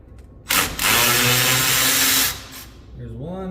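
Power drill with a 3-inch wobble extension backing a screw out of a plate on a 2020 RAM 1500 5th Gen, one loud sustained whir of nearly two seconds, with a voice briefly heard afterward.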